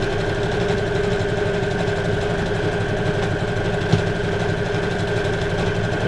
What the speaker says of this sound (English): this sewing machine is the bomb.